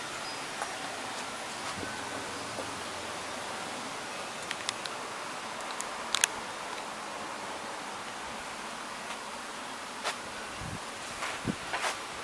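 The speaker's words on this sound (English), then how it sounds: "Getting real windy." Steady wind blows through trees in East Haven ahead of a big cold front, a broad, even rush of rustling leaves filling the whole stretch, with a few faint clicks and brief gusty bursts rising over the constant hiss.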